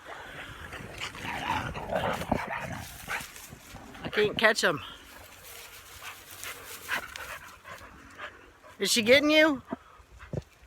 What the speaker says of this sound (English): she's barking at him